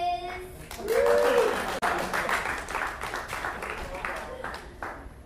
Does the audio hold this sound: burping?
no